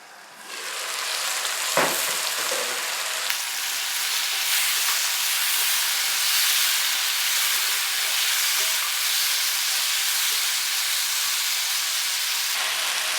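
Chicken cooking in a pan gives a loud, steady steamy hiss and sizzle that continues throughout, with a few sharp clatters near the start.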